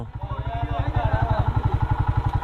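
A motorcycle engine idles close by with a steady, rhythmic low thumping, while people talk over it.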